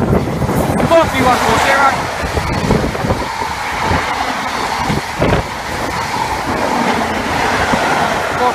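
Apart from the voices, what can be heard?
HST high speed train passing Dawlish Warren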